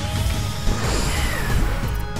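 A shattering smash from the Coromon video game finale, a loud burst of crashing, whooshing impact noise sustained over a couple of seconds with no talk.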